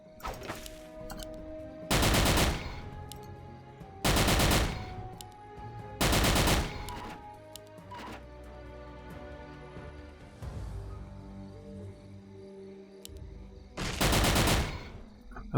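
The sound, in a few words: assault rifle gunfire in Carnivores World video game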